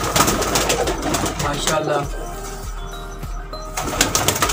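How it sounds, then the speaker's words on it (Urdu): Sialkoti pigeons coo softly and repeatedly nearby on a rooftop amid fluttering and scattered chirps, while someone speaks briefly over them. "یہ سیالکوٹی کبوتر ہیں سارے، سب سیالکوٹی کبوتر ہیں"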